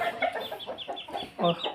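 Several hens clucking close by in an enclosed coop, a string of short, busy calls with one louder burst near the end.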